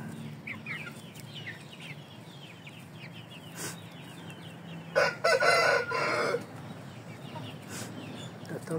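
An Indio Gigante rooster crows once, loud and near, over a steady outdoor backdrop of chirping birds and soft clucking from other chickens.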